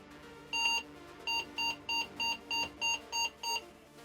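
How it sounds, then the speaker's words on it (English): A retro 1990s PC with a 233 MHz Pentium MMX and AWE64 Gold sound card fails its power-on self-test: one longer beep from the case speaker, then eight short, evenly spaced beeps in quick succession, clear and alone. "That beeping from the case speaker is not great."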